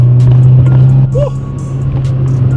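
Honda Civic being drifted on a road: a steady, loud engine drone runs throughout the interior recording, with road and tyre noise layered over it.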